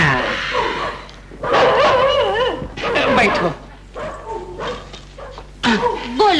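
A dog yips, whimpers and barks in short bursts during an Indian drama film scene, mixed in close with people talking.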